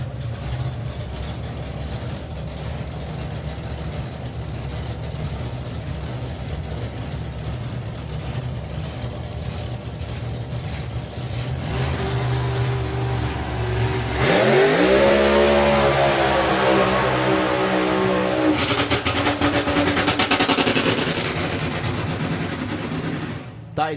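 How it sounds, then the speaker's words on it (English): Nostalgia drag car at Santa Pod Raceway running rough, as if on only a few cylinders: a lumpy, uneven engine note that swells and revs harder midway, with crowd noise and talk around it. "That is not a happy engine."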